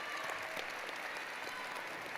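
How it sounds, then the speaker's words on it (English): Audience applause for faculty at a spring university commencement ceremony, a steady, fairly soft wash of many hands clapping from a distance, heard alone for a couple of seconds. "please show your thanks and applaud these dedicated individuals who have guided you along their journey"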